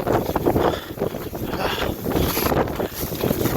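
Strong storm wind roars across an exposed mountain trail during backpacking, buffeting the microphone in loud, continuous gusts with rumbling low-end blasts and no break.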